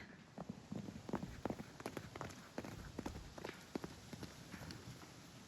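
Hooves clip-clopping in quick, uneven bursts as horses move about nearby, with a steady hiss of background noise throughout.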